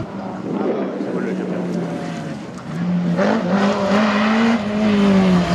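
A race car at the 2018 Saint-Lô slalom, number 56, drives past close by; its engine drone climbs and grows louder partway through, under steady wind noise and the commentators' voices.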